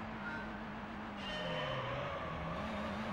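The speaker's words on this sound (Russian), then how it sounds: "Даже звук мотора стал другой." A steady, droning Corvette engine in Gran Turismo 3: A-Spec hums continuously at a constant pitch with a slight rise, alone and fairly quiet, a game's motor sound.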